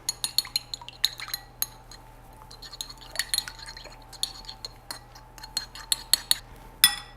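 An egg, milk and vanilla are whisked together in a mixing bowl for Tonga toast, with a utensil clinking rapidly and unevenly against the bowl's sides, close and alone.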